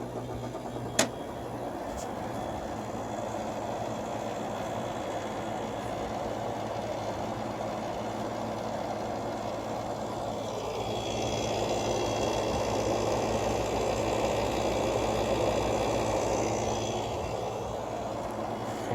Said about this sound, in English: Compressor sounded kind of angry at first, but it sounds pretty good now.